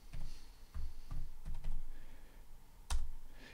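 Typing on a computer keyboard produces a handful of soft, irregular key taps close by, ending with one sharper keystroke.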